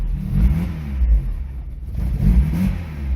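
A 1991 Vauxhall Astra GTE 16V, running rough after storage, idles unevenly in neutral and is revved twice, each low engine swell rising and falling close by.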